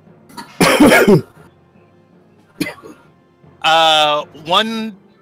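A voice imitates a character's rough coughing and throat sounds during a tabletop role-play session, with a few loud separate bursts and short pauses between them. No crackling flame is clearly heard.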